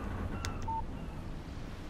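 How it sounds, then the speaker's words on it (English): A phone text message notification in the video game Alan Wake Remastered, a brief single electronic beep tone, faint against a steady background hum. "Text message from Barry."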